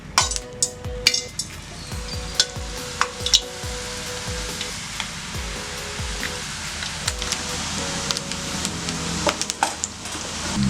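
Butter murukku dough is pressed into hot oil and fries with a steady, close sizzle, while occasional sharp clinks of metal utensils and pans punctuate the bubbling.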